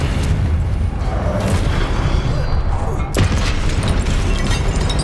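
A Confringo fire spell from Hogwarts Legacy bursts with a loud whooshing boom over a dense rumble of combat, followed by a sharp impact crack; spell incantations are spoken around it.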